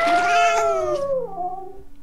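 Drowning cats in a video game give a loud, drawn-out wailing meow that slides downward and fades over about two seconds, heard alone.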